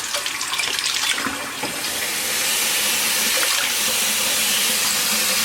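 Cold water gushing from a tap after a hot water heater flush, a loud steady hiss and splash that grows fuller and more constant after a few seconds, with no talking.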